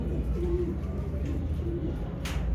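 A pigeon at a Lahore pigeon market coos nearby, giving a few low, soft rolling calls over a background hum of activity.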